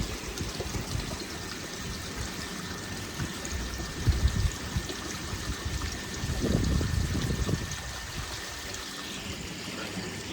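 Water pours and splashes continuously through a homemade Bakki shower koi pond filter built from 9mm polypropylene sheeting, a steady outdoor rush that swells briefly in louder gushes, with no talking.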